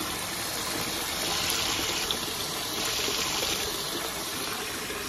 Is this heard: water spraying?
yes